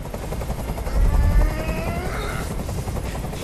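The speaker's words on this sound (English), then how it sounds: "I can't stand that noise anymore. Tell that helicopter to get out of here." A helicopter in the video game Detroit Become Human thrums with a loud, close rotor chop and engine roar, a steady pulsing beat that swells briefly near the middle and continues unbroken without any talk.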